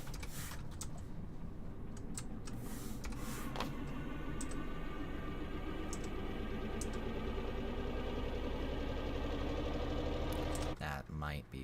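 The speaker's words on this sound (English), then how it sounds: "Let me get this engine idling low." A low, rumbling engine idling in the Stormworks vehicle-building game, a continuous mechanical drone with a ticking pulse throughout, a few clicks near the start and a brief break near the end.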